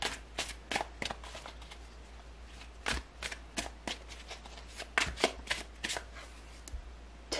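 Tarot cards being shuffled by hand, heard close and soft as an irregular run of crisp riffling and flicking bursts, with no voice over them.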